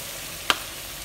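Tomato salsa with beer, a Severiano-style salsa borracha, sizzles as it cooks, giving a steady close hiss broken once by a single sharp clink of a utensil.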